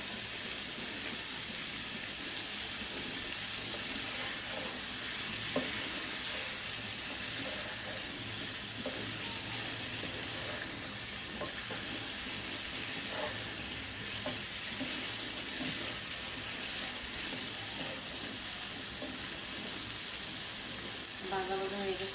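Rohu fish frying in a pan after water has been poured in, a dense, steady hiss and sizzle that runs loud and unbroken at close range, with faint scattered clicks of stirring.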